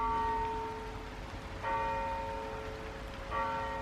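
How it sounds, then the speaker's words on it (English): Church bells ring in steady repeated peals with bright sustained tones, each new strike swelling at regular intervals over a continuous low rumble, heard alone with no talking. "Them frickin' bells, man."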